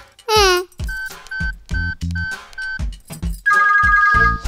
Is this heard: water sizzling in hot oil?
no